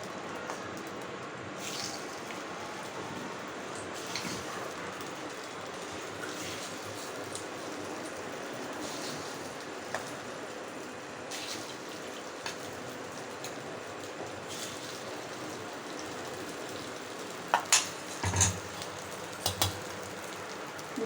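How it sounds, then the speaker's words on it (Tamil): Egg paniyaram batter sizzles in a paniyaram pan, a long, even, rain-like hiss at moderate level, broken by a few sharp clicks and pops near the end. "நம்ம வந்து பணியார கல்லில் மிக்ஸ் பண்ண முட்டை பணியாரம் மிக்ஸரை ஊற்ற போகிறோம்."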